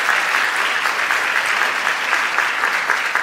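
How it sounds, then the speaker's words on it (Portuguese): An audience at a stand-up comedy show claps in steady, dense applause that fills the room, loud and close, with no voices over it. "Uma salva de palmas pra vocês que vieram aqui hoje"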